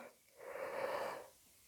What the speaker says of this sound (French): mon corps a encore besoin de bâiller